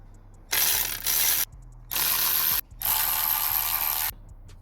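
A hand ratchet tightens the wishbone bolts on a 2009 Vauxhall Zafira, three loud close bursts of rapid clicking separated by short pauses, with no talking.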